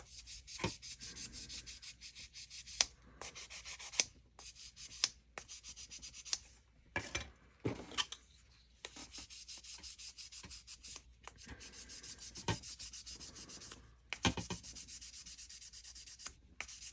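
Sanding by hand to roughen the hood of an AMT 1967 Impala street machine plastic model kit: steady, quiet scratchy rubbing strokes, close, with a few sharper scrapes and no speech.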